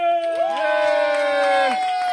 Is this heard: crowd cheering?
yes